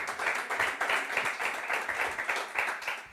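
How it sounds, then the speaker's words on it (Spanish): A church congregation applauding, dense steady clapping from many hands, moderately loud with no voices over it. "Dele un fuerte aplauso al Señor."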